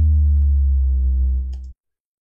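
An electronic kick drum in C, time-stretched over two bars, sounds as a loud, sustained deep bass tone with buzzy overtones that holds steady and then cuts off abruptly, followed by silence.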